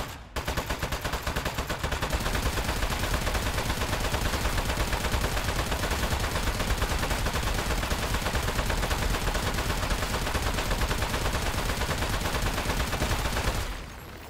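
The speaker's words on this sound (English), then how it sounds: "Keep shooting him." Sustained rapid gunfire from the video game Aperture Desk Job, a dense continuous burst of shots running loud and unbroken for most of the stretch before cutting off near the end, with no talking.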